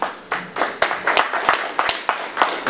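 Scattered, uneven clapping from a small audience at a Pirate Party panel discussion on basic income in Dresden, a handful of distinct sharp claps repeating at an irregular rhythm, moderately loud and close, with no talking.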